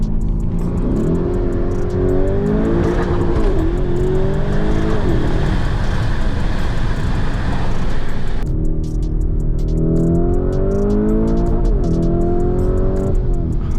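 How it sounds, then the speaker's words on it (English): A Nissan GTR on its stock exhaust revs loudly and close up, the engine note climbing and falling in repeated sweeps, cutting out briefly, then rising again in further revs. "it sounds pretty loud too for a stock exhaust"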